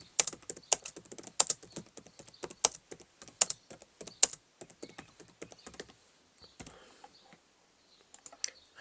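Computer keyboard keys being typed into a blog text box, a quick close run of clicky taps for about six seconds, then a pause and a few scattered final keystrokes.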